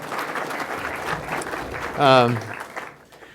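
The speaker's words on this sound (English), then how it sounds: "Let's clap for him anyway." Audience applause at a recording studio grand reopening, a short patter of clapping heard under a voice that keeps talking, with one brief vocal outburst over it.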